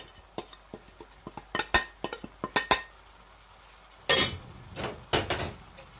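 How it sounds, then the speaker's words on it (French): A spoon clinks and taps against a bowl while tandoori, turmeric, tarragon and salt are stirred together, with irregular sharp knocks, a brief pause, then more scraping strokes and no talking. "Je mélange"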